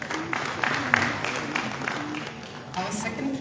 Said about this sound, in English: Please give him an applause as he comes.